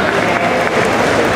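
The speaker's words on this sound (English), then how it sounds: "How about a round of applause for our bikini champions?" Brief, dense burst of audience applause at a bodybuilding competition's bikini division, filling the hall evenly from start to finish.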